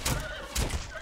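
A horse in The Bard's Tale video game gives short whinnying cries with thudding impacts, two bursts in about a second, loud and close.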